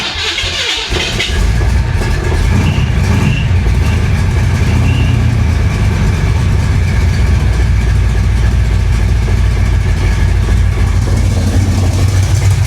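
A flooded 1966 Chevrolet Impala engine fires up and runs with its fuel pump disconnected, a loud, close, rough steady idle rumble after a brief start-up burst, with no voices.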